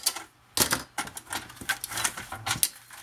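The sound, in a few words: cutting paper for a scrapbook page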